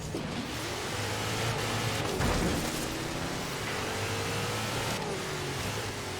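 A huge AMG Transport Dynamics M12S Warthog truck with giant tires drives in Forza Horizon 3, its engine a steady, continuous mid-pitched roar that swells briefly partway through, heard alone with no talking.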